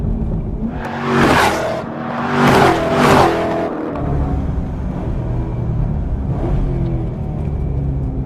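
A car engine breathing through a Borla exhaust barks through three quick, loud rev bursts close by, then settles into a low, steady idle rumble for the remaining seconds, with no voices.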